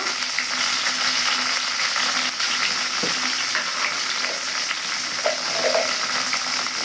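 Onion pieces and curry leaves fry in hot oil for a drumstick-leaf stir-fry, giving a steady, loud, close sizzle that runs unbroken throughout with no talking.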